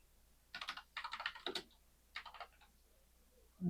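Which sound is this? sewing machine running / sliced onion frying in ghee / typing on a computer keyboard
typing on a computer keyboard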